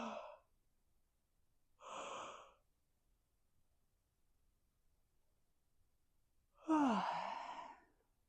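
During a yoga exercise a person yawns close up in quiet surroundings: a short breathy sound, a second soft one, then a longer voiced yawn with a falling tone, separated by silence.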